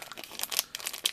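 A thin cellophane bag crinkles and rustles in quick bursts for about a second, close by and fairly loud.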